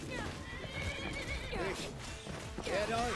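A horse in Skyrim whinnies in a couple of sharp, wavering bursts with hooves clopping beneath, while a player talks over the game sounds.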